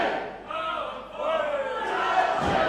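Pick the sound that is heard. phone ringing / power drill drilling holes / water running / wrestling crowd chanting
wrestling crowd chanting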